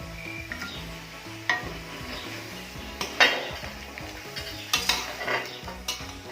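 Green curry with fish balls and bitter gourd being stirred in a pot, a ladle knocking and scraping metal in an irregular rhythm over a low bubbling simmer, no one speaking.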